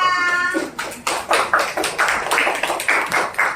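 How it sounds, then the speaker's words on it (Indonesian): A class of students claps for classmates who have just presented, a brief burst of uneven, slightly scattered handclaps, close and moderately loud, rising and falling over a few seconds. "Tepuk tangan buat Roni dan Zahira."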